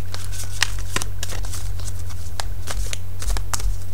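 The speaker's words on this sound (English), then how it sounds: "So I'm going to go ahead and shuffle" A deck of cards is shuffled close up, giving repeated crisp riffles and snaps over a steady low hum, with no pauses.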